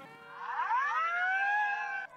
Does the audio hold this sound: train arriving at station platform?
no